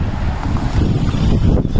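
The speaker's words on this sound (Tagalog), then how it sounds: "Grabe yung hangin dito." Strong spring wind roars continuously outdoors in a city street in Zagreb, buffeting the microphone with loud, steady rumbling gusts and no voices.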